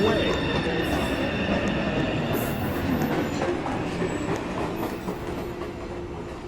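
A subway train rumbles and clatters along the track at Beverly Road station during the evening rush hour, a steady loud wash of wheel and rail noise that gradually eases toward the end.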